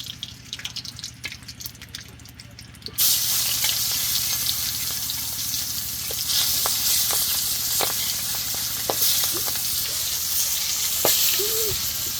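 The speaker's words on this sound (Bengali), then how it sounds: "এখন আমি মাছটি ভেজে নিব সুন্দর করে" Fish rubbed with salt and turmeric starts frying in a pan, a sudden loud hiss of sizzling oil that continues steadily with scattered crackles and pops, quieter dripping and clatter heard just before it begins.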